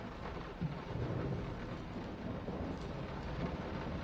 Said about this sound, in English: I swear that storm is groaning.